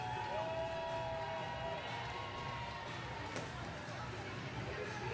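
Roller derby crowd in an arena, a steady wash of cheering and chatter with louder skaters' shouts blending in, a whistle-like tone briefly rising over the noise.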